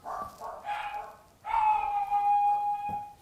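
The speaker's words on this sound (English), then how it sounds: "Those are my dogs." Dogs barking indoors in a home setting, a few short barks followed by a longer, louder bark with a whining tone, heard nearby with no talk over them.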